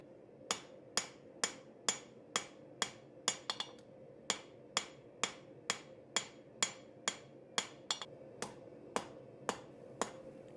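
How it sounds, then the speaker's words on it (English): Hammer blows on a hot steel knife tang during forging, a steady run of about twenty sharp metallic strikes in an even rhythm, close and loud with no talking. "Last little step in forging, just straightening out the tang end of the piece."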